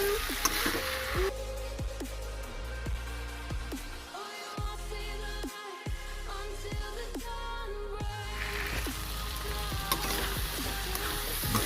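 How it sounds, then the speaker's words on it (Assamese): Mushrooms fry in a hot pan with a dense, continuous sizzle and crackle, close up, broken by a couple of short gaps and occasional stirring scrapes, with no voices. "এইখিনি ভাজিব লাগিব ভালদৰে।"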